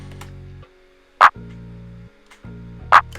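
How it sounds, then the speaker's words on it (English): Two crisp electronic clap hits ring out about two seconds apart over a low droning bass tone that starts and stops. "and then of course the clap."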